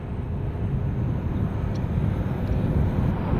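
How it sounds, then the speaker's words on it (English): WestJet Boeing 737-800 airliner on a go-around, its jet engines producing a steady, loud, broadband roar throughout that swells slightly toward the end, with no voices over it. "This airplane right here is doing a go-around."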